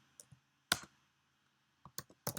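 Computer keyboard typing during a coding session, a few sparse, quiet, close key clicks with short pauses, one isolated tap then a small quick cluster at the end.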